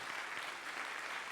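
Audience at a school winter band concert claps steadily, a soft, even wash of applause from many hands.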